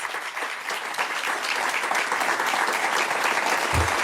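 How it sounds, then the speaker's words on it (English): A large audience at a Los Angeles Urban League gathering gives sustained, loud applause as the board stands, a thick continuous wash of clapping that builds slightly and holds to the end. "Please, let's give them all a round of applause."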